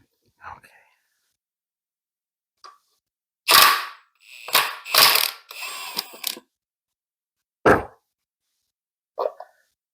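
A half-inch ratchet loosens bolts on an L61 engine during teardown, producing several short, close bursts of rapid clicking and metallic clacks with pauses between them.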